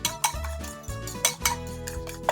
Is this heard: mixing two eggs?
yes